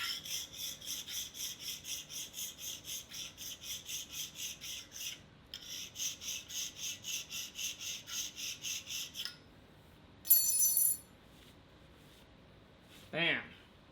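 Rapid, regular rasping strokes of a file deburring metal on a Monarch 10EE lathe, close and steady, briefly stopping, then a short high squeal and a faint clunk near the end.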